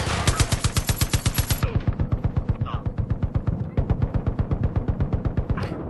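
Vehicle-mounted main gun firing in Far Cry 5, a loud, rapid stream of evenly spaced heavy shots running continuously, with a brief pause and faint distant sounds between bursts.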